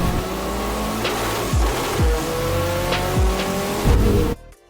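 A Lamborghini Gallardo on a new race circuit in Portugal roars past at close range, its engine note climbing and dropping through repeated gear shifts, then cuts off abruptly at the end.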